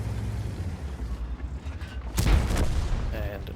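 A Chieftain tank's cannon fires in a tank combat video game: a single heavy boom about two-thirds of the way in, rising over quiet mechanical background noise.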